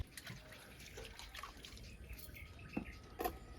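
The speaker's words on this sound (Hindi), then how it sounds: "सुबह का टाइम है, धो रही हूँ बर्तन" Dishes being washed with water in the morning: soft, faint trickling and dripping with scattered clinks and splashes, quiet and intermittent.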